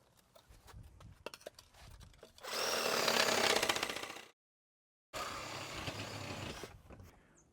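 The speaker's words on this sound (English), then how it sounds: "we're going to make some cuts so that we can align the piping with the intake and return on the heat pump" A power saw cuts through plumbing pipe to line it up with the intake and return of a Hayward HeatPro pool heat pump, running loud and steady in two long bursts separated by a brief silence, with scattered clatter before.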